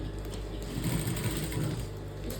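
A sewing machine stitches blouse fabric in a steady, close, rapid whirring run, with no talking.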